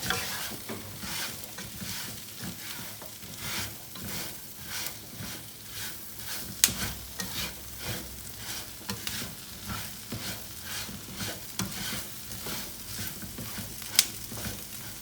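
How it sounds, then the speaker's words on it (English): Onions and seasoning sautéing in a pan for jambalaya, a continuous sizzle with rhythmic scraping and stirring strokes throughout, plus a couple of sharp clicks of a utensil against the pan. "we're gonna saute this all for a couple minutes"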